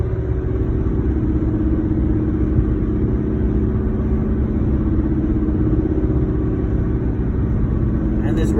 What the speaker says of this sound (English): this road noise from these tires are pretty bad